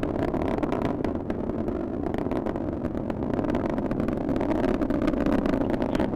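An Atlas V rocket climbing during launch ascent, its engines a continuous distant crackling roar with sharp popping bursts throughout, steady and loud with no talk.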